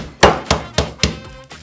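Four heavy, evenly spaced blows of a meat mallet or rolling pin pounding on a wooden kitchen board, loud and close, each a sharp thud with a short ring-out, with no voices.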